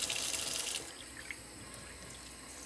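Tap water runs into a sink while Coleman lantern parts are rinsed, a loud splashing stream at first that settles into a softer, steady flow, close by with no talk.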